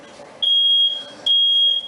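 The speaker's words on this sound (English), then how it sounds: "Oh, smoke alarm." A smoke alarm gives two loud, piercing high-pitched beeps, each about half a second long, over a quiet room.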